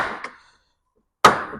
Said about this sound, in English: We've got a bolt and nut in here, so that's the noise you're hearing.